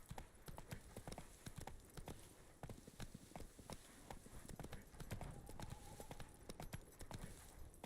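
Hooves of the horse Roach clip-clop steadily in The Witcher 3 as it trots along, a continuous close rhythm of sharp hoof strikes over faint ambient game sound.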